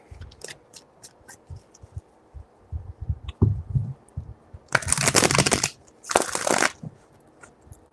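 Tarot cards being shuffled by hand, with scattered soft riffles and taps followed by two loud, close bursts of rapid card riffling, no voices.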